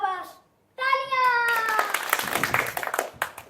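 A group at a theatre-in-education workshop breaks into loud, close clapping and applause that lasts about two seconds. Children's voices call out just before the clapping begins.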